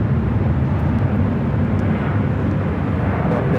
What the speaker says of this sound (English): Korean Air Flight 197, which is the morning flight.